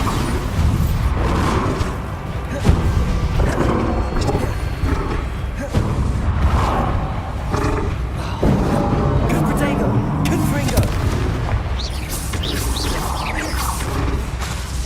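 Bombarda explosion spells cast in the Hogwarts Legacy video game, heard as repeated booming blasts and crashes within a dense, continuous wash of game effects and music, with voices talking in places.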